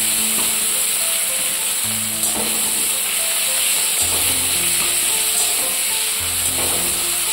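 Crushed garlic, dried puti fish and slit green chillies hit hot oil over browning onions, giving a steady, close sizzle with occasional stirring scrapes, no voices.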